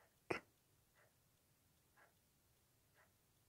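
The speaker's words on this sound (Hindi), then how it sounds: "ये घड़ी की आवाज़ है" A wall clock with hands ticks softly in a quiet room, one sharp louder tick followed by fainter, evenly spaced ticks about a second apart.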